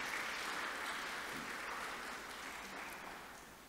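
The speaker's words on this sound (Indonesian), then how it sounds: "Tepuk tangan kepada anak-anakku semua." Audience at a dental graduation and oath-taking ceremony applauding the new dentists, a dense, even wash of clapping that fades slightly toward the end, fairly distant and soft.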